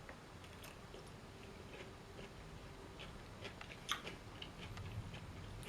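Quiet, close chewing of a Spanish pickle, with soft wet crunches and bites scattered over a low steady background and one sharper crunch near the middle.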